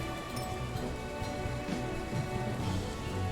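Steady rain conjured by the Rite of Rain spell in the strategy game Triangle Strategy, a continuous even hiss of falling drops with no pauses.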